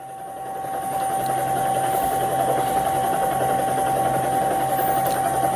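Helicopter flying over a huge crowd at a funeral procession in Qom, Iran, a steady droning rotor and engine hum that stays loud and even throughout.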